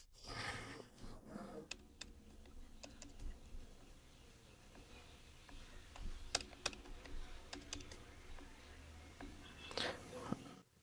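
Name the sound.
typing details on a computer keyboard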